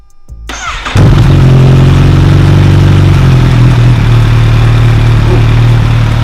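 A warmed-up Kawasaki H2 motorcycle fitted with a new exhaust fires up and settles into a loud, steady, deep idle at close range.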